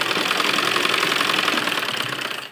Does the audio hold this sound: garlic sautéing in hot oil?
no